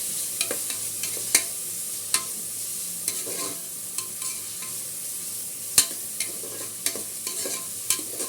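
Tomatoes, onions and green chillies fry in a pan for mutton keema curry, with a steady soft sizzle broken by sharp clicks and scrapes of a stirring spoon against the metal.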